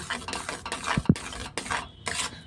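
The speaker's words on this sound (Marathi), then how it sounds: "आता दूध आणि रवा ह्याला आपल्याला चांगला आता मिक्स करून घ्यायचा" Semolina and milk with sugar stirred in ghee, heard as repeated close scraping strokes of a spoon against the pan in a steady rhythm, with a couple of heavier knocks midway.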